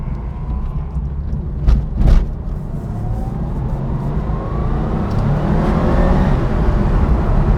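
A Porsche 993 GT2 pulls hard in second gear, its engine note rising steadily and loud from inside the car, with a couple of brief knocks early before the drone swells toward the end.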